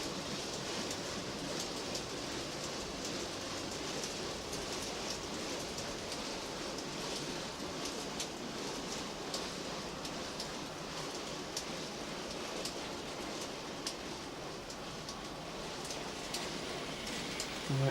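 An N gauge model locomotive hauls a heavy rake of IPA car carrier wagons, giving a faint, steady rolling rumble and rattle that stays even throughout with no talking.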